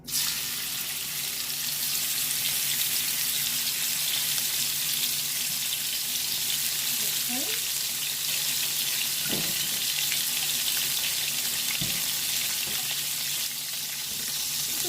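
Scallops sear in a granite stone pan, giving a steady, bright sizzle that holds throughout, with a few soft clicks and knocks of utensils underneath.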